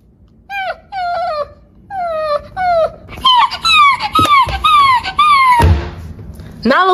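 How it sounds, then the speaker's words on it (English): A frightened dog whimpers and squeaks in a rapid series of high, falling cries, loud and close, broken by a couple of thumps and a brief burst of noise. "You scared my dog."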